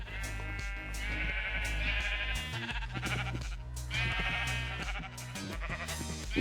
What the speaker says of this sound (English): Yeah, those are pink sheep.